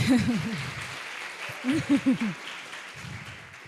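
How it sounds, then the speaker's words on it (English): Audience applause at a university guest lecture on globalization and international development, a short burst of clapping under and between a host's voice speaking over it. "please give a round of applause"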